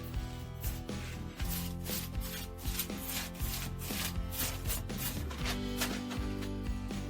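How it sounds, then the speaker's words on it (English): A brush taps and rubs on a textured wall surface in quick, uneven strokes, close and fairly loud, with a repeated scratchy rhythm and no voices. "Simply take a brush and tap. Rub it in order to complete the work."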